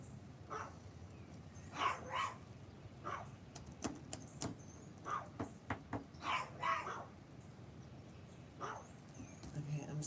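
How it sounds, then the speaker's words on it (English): Several dogs barking outdoors in repeated short bursts, moderately distant and faint, with a few louder barks, over a steady background hiss. "while the dogs get their barking out."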